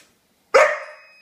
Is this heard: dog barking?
yes